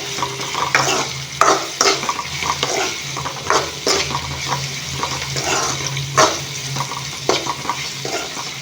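Ivy gourd (tindora) frying in a pan, a dense, continuous sizzle close by, broken by repeated scraping and stirring strokes against the pan, with a low steady hum underneath.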